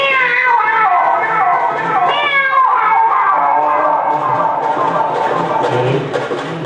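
A human voice imitates a tomcat calling to a female cat, giving a loud, close, drawn-out series of wavering meows and yowls that rise and fall, over a soft rhythmic background beat.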